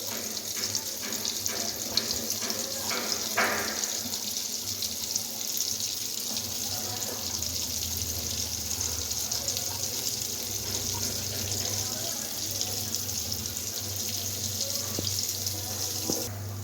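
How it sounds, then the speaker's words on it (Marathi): Semolina-coated brinjal slices fry in oil in a pan, giving a steady, even sizzling hiss that carries on throughout. "आता फ्राय करायला आपण टाकून देऊया."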